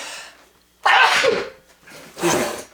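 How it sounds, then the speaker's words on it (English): Two sharp, close sneezes burst out one after the other, each a loud breathy explosion following a quiet intake, with no speech in between. "I feel like I'm going to sneeze."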